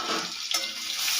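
Crushed garlic hits hot oil with nigella seeds and dried red chilies in a pan, giving a brief, steady close sizzle and hiss.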